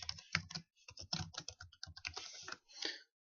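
Typing on a computer keyboard while entering a web browser command in Visual Basic: a quick, close run of light key clicks in uneven bursts, with short pauses between groups and no talk.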